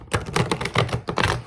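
A deck of Ascended Masters oracle cards being shuffled by hand, a close, loud series of crisp riffling bursts in an irregular rhythm, with no voice over it.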